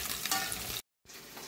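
Cabbage hits a hot oiled pan and fries with a loud, steady sizzle and some stirring, briefly cut to silence, then continuing a little more softly.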